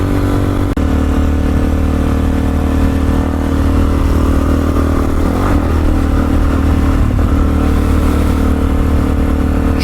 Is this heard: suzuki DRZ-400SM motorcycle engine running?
yes